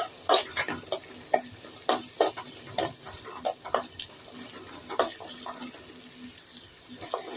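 Manathakkali greens with garlic sauté in a pan, giving a soft underlying sizzle broken by a string of sharp stirring scrapes and clacks in an uneven rhythm, close and without speech.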